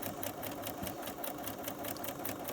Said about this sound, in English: Very gently do a reverse stitch at the top